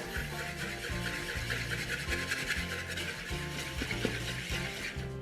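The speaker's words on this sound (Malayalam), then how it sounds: "അടുത്തായി നമുക്ക് വിസ്ക് കൊണ്ട് നന്നായിട്ടൊന്ന് മിക്സ് ചെയ്തെടുക്കാം." Wire whisk scraping and rubbing through dry spices in a bowl for a chicken mandi, a steady rasping stir that runs close and continuous without pause.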